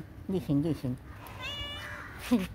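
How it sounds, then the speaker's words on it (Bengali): A cat meows several times in an early-morning garden, with a quick run of close calls followed by a longer one, while a person speaks nearby. "বিড়াল এসছে।"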